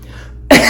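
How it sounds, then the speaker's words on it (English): A single sharp, loud cough bursts out after a stretch of near silence, close to the listener, with no talk over it. "Sorry about that cough."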